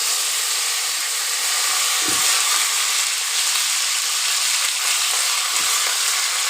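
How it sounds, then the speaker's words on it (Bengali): Fish heads fry in mustard oil in a pan, a loud, steady close-up sizzle that runs without a break, with a couple of faint low knocks, and no voices. "প্রথমে কড়াতে সরষের তেল দিয়ে দিলাম দিয়ে মাছের মাথাগুলো ছেড়ে দিচ্ছি"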